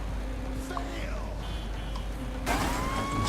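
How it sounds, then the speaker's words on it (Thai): A police car drives in the open-world game Saints Row: The Third, its engine rumbling steadily. Siren-like wails and horn tones sweep over it, and the sound grows louder and brighter in the last second. "อ๋อนี่ครับรถตำรวจ รถตำรวจ อ่าไป รถตำรวจมาแต่งนี่มันเดียวมาก"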